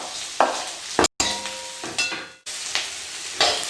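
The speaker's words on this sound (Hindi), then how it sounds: "गार्लिक थोड़ा सा चलाने के बाद मैं डाल दूँगी अनियन" Onion and garlic fry in a hot kadai with a steady sizzle, broken by several short scraping stirs of a spatula; close and clear, with no talk.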